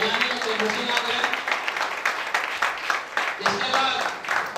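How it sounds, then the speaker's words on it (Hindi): A crowd at an achievers celebration event claps in a dense wash of applause, fairly loud and sustained, with an amplified voice and hall sound mixed underneath. "ताली बजाने में कोई मुश्किल ना करें।"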